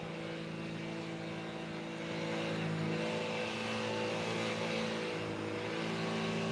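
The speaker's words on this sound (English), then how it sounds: "I've found the world's loudest tipper lorry." A very loud tipper lorry engine drones steadily on a road, close by, with a low, dense rumble that swells slightly midway and holds strong throughout with no talk.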